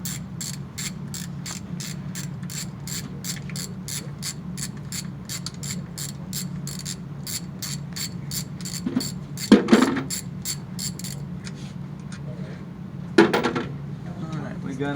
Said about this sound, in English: when he starts getting these bolts loose